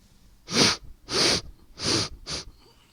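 Four sharp, congested sniffs at a pencil in a steady rhythm, close and breathy, each a short rush of air through a blocked nose.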